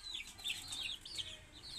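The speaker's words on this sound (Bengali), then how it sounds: "খুব সুন্দর মুরগি কিন্তু।" Chickens in a cage give repeated soft, chirpy clucks and peeps that run steadily through the moment at a quiet level, with no talking.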